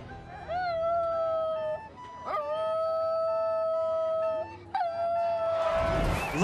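A dog howls in long, wavering, sustained tones, three drawn-out howls with brief breaths between, loud and close, ending in a burst of broadband noise.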